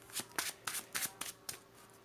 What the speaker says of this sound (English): let's shuffle our deck.